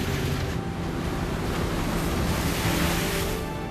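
Heavy wind and high winter sea waves crash around a small 78-ton crab fishing boat, a constant loud roaring wash with gusty buffeting and no talk.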